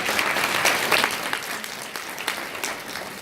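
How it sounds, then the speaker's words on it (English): A room full of people gives a warm round of applause for a trading student, dense steady clapping at moderate loudness that slowly fades toward the end. "Give her a round of applause."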